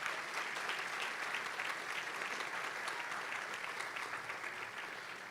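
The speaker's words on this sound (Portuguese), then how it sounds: "Você pode aplaudir Jesus por isso?" Sustained audience applause in a church sermon setting, a dense steady wash of many hands clapping that fades slightly toward the end, with no voices over it.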